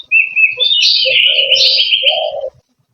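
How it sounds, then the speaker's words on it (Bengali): Doves and oriental magpie-robins call under a banyan tree in a Kushtia village in late afternoon: clear, close whistled phrases and chirps in a steady run for over two seconds, with no talk. "ঘুঘু থেকে দোয়েল মনের আনন্দে এই বটবৃক্ষের ছায়ার নিচে ডেকে যাচ্ছে আপন মহিমায়।"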